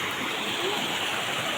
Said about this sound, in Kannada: ನದಿ ಹತ್ರ ಬಂದಿದ್ದೇವೆ